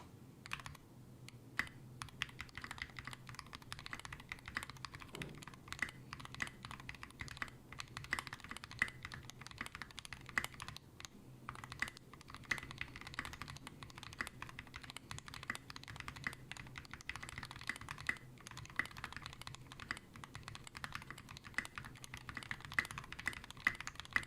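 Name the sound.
typing test on a mechanical keyboard with SA Bliss keycaps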